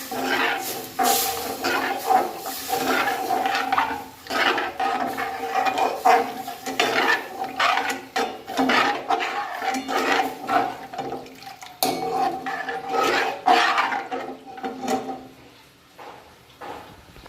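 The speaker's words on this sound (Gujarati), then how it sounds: "હવે આની અંદર નાખી દઈશું છાશ અને અને હલાઈ લઈશું આપણે" Buttermilk is stirred into crumbled rotlo in a pan with a spoon, giving close, steady wet clinks and sloshing scrapes in an uneven rhythm that pause briefly before carrying on.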